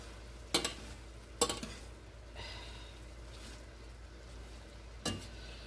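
Spoon stirring potatoes frying in a pan for a breakfast pizza pie, a few sharp scraping strokes over a quiet, steady sizzle, no talking.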